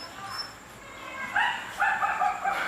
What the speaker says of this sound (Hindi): हाँ आवाज आ रही थी ना कुत्तों की, बाहर लड़ रहे थे